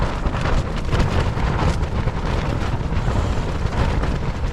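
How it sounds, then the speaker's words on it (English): Strong, violent wind roars continuously across a wild camp in the Yorkshire Dales, a dense, loud rush with rumbling buffets battering the microphone throughout, with no voices. "I seem to find the wind wherever I go, don't I?"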